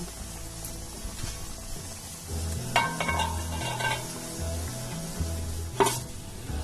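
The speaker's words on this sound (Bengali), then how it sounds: "চাপা দিয়ে চিকেনটাকে এখন মিডিয়াম ফ্লেমে 5 থেকে 7 মিনিট রান্না করে নেব।" Chicken kosha cooking in a covered pan over a medium flame with little oil, a low steady sizzle with occasional clinks and stirring sounds and a couple of sharper bursts, no talking.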